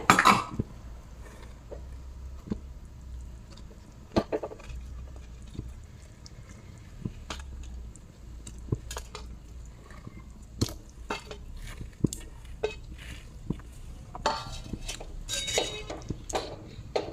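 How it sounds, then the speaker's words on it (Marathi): Utensil scrapes and clinks against a pan as fried paneer is stirred into a boiling masala, scattered taps and stirring sounds at irregular intervals, with a low simmering bubble underneath. "छान अशी उकळी आली आहे आता यात आपण"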